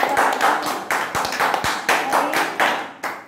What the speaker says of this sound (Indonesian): Berikan tepuk tangan untuk teman kalian